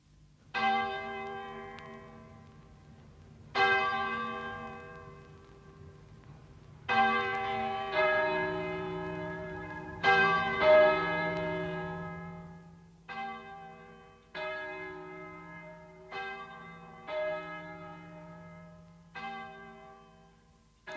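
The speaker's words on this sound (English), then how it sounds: "I wonder why the church bells are ringing." Church bells ring in the fog, slow single strokes spaced a few seconds apart, each clang fading into a long resonant hum, moderately distant with no voices.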